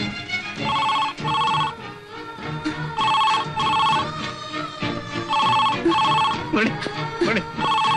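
A telephone rings in repeated double bursts, loud and close, each pair separated by a short gap, with other sounds faintly underneath.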